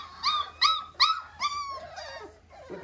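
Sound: puppy dog whimpering

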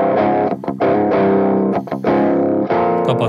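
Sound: electric guitar DI signal through overdrive pedal, amp off

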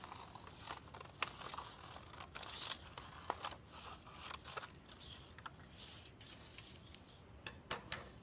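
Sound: scissors cutting out a paper portrait

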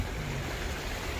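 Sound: strong flood water streams flowing

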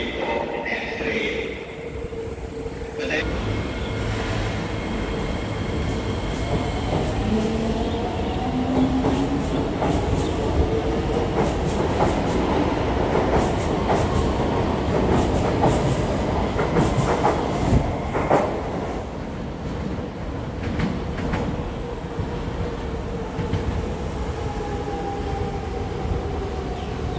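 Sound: SMRT East West Line C151A train at station platform

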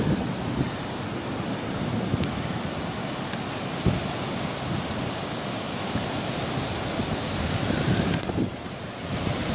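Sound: waves breaking at Parangtritis Beach

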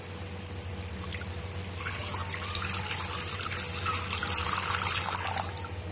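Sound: pouring water into a pan while making tutti frutti

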